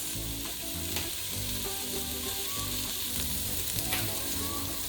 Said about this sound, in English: We're going to saute them for a minute or two.